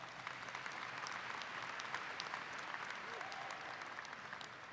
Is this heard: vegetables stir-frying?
no